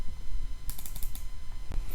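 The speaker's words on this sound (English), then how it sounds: "I'm going to go ahead and type my letter," Typing on a computer keyboard, a short burst of several close key clicks over a steady electronic hum, quiet with no talk.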